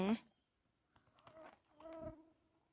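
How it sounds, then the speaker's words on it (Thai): A mosquito whines in a Finnish forest while mushrooms are gathered, a faint, thin buzz that comes and goes in short passes near the ear. "ยุงแหม"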